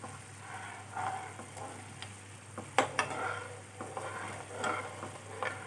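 Sugar syrup for Mysore pak being stirred in a pan, a faint soft bubbling hiss with light scrapes and a few sharp clinks of a spoon against the metal.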